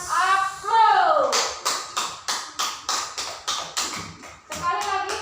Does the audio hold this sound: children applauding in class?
yes